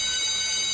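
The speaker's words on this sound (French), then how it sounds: "Vous entendez ce son d'alarme insupportable qui se relance en boucle tout le temps." A looping alarm tone blares steadily throughout a video game level, a shrill, sustained electronic pitch with a dense stack of high harmonics, loud and unbroken with no voices.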